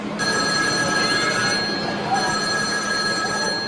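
A telephone rings with an incoming call, a steady repeated electronic tone sitting over continuous background noise and low murmur for the whole stretch.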